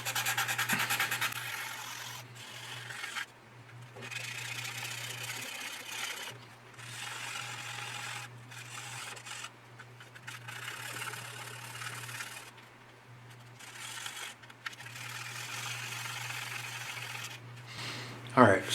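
Putty is sanded by hand on the fuselage of a 1/32 Italeri Panavia Tornado plastic model, giving soft scratchy rubbing strokes in bursts with short pauses, close and quiet under a steady low hum.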